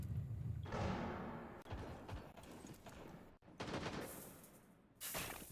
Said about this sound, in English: Does get the shot onto Waco